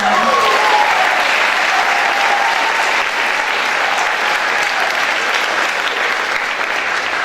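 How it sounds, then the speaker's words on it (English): A large school assembly crowd applauds alumni at the 2017 UHS Alumni Awards, loud sustained clapping that fills the room evenly, with a brief voice heard at the start. "can we have one more round of applause for our wonderful alumni?"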